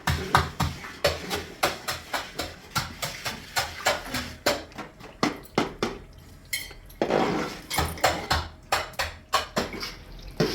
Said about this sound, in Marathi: जो डिंका तळून घेतलेला आहे ना आपण तो हे बघा असा छोट्याशा मोसळीने असा एकदम झटपट बारीक होतो